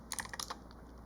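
Quick burst of keystrokes as a command is typed on a computer keyboard, a handful of close, soft clicks in under a second, then quiet.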